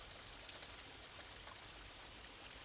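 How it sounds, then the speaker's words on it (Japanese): The Tonase waterfall flows with a steady, broad rushing hiss of falling water, unchanging throughout, with no voices. "これが戸無瀬の滝です"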